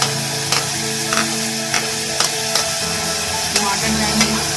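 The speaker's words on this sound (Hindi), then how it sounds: "इसमें प्याज जाएगी," Onions go into a hot pan for chicken macaroni and sizzle steadily, with repeated sharp scrapes as they are stirred at a regular rhythm, close and fairly loud.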